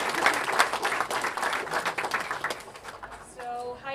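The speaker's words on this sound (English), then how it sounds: "So give a warm applause for Sanne and Chloe." Audience at a design system night event applauds warmly, a crowd of clapping hands for about three seconds before it fades and a voice begins to speak.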